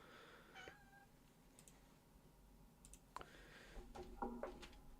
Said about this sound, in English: I've got a cat shouting.